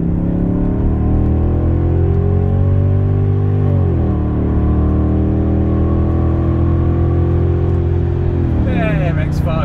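BMW E31 8-series with a V8 accelerating past an X5: a loud, continuous engine drone that climbs in pitch, briefly dips at two gear changes, then keeps building close by.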